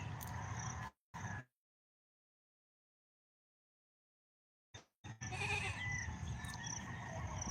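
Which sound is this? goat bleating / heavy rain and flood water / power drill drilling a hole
goat bleating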